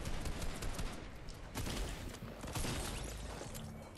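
Video game gunfire, a continuous dense barrage of overlapping shots and bursts, moderately loud and unbroken, with no talk.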